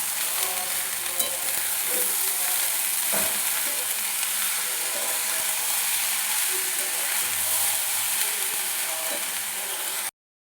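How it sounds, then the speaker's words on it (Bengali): Rice stir-fries with vegetables, salt and sugar in a pan, a steady close sizzle with scattered scraping and clicking of a utensil throughout. "সবজিগুলোর সাথে ভাতটা খুব ভালোভাবে আমি মিশিয়ে নিয়েছি লবণ চিনি খুব ভালোভাবে মিশে গেছে"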